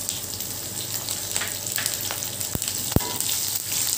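White sesame seeds frying in a few tablespoons of oil in a pan with chopped garlic and green chillies, a steady close sizzle with a few sharp pops and crackles near the end.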